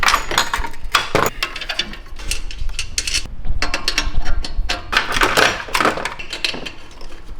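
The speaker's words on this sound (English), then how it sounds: "Gotta remove these old bung plugs." Ratchet work on old bung plugs in a BMW V8 exhaust with straight pipes, giving repeated clicking and metallic clatter in bursts, up close, with no talking.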